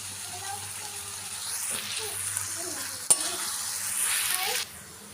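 Ridge gourd goes into a pan with browned onion and garlic, sizzling and hissing as it is stirred, with a sharp clink midway and the frying noise swelling before it drops away at the end.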